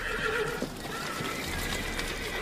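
A horse whinnies loudly and shrilly, with hooves clattering in the background.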